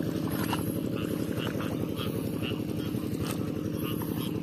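A tractor passing close by in a rural Javanese setting, a steady loud low engine chug with rapid rhythmic pulsing that holds throughout, with faint background noise above it.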